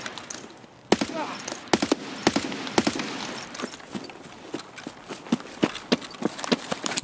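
Gunfire in Escape From Tarkov, a series of sharp, spaced shots, some loud and close and others fainter, breaking out over a steady low background rumble.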